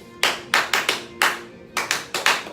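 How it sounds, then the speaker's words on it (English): A teacher claps out a short rhythm in a classroom for students to copy: eight crisp, close, loud hand claps in uneven groupings with brief pauses between them. "Remember, I'm supposed to clap, and then you guys, and I say go, you mimic."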